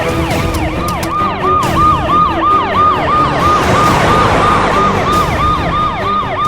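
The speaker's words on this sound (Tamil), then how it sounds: "டேய் மச்சான் ஆம்புலன்ஸ்டா." An ambulance siren wails loud and close in a steady, fast repeating up-and-down cycle, with traffic noise underneath and no voices.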